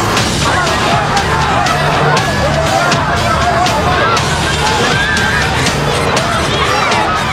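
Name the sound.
crowd of thousands pushing and jostling to enter the gate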